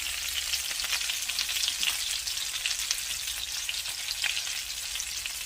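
Ground meat and potatoes frying together in a pot for a jalapeño one-pot meal, giving a steady, close sizzle with light crackling throughout and no voices.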